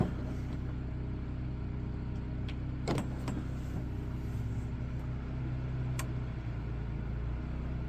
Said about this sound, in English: I've already got the generator going outside